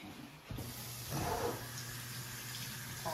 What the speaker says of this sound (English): Always wash your veggies.